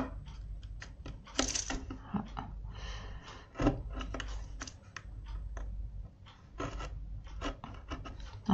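A craft blade, not cutting well despite being fairly new, scores paper for a Stampin'Up! surprise box, heard as a series of close, faint scratchy scrapes and light taps at an irregular rhythm.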